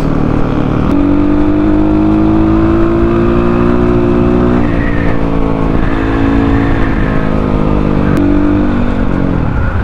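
An MRB CX 250 SE dirt bike runs along a highway with a loud, close, steady engine drone that rises slightly in pitch as it holds speed, then eases and picks up again, with wind roar throughout.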